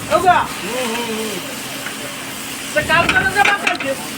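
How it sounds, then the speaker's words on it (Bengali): Seeded banana pieces fry and get stirred in hot oil in a pan, giving a steady sizzle with scraping stirs that rise toward the end, while voices talk over much of it. "এটা হচ্ছে বিচা কলা ভাজি তৈরি হচ্ছে"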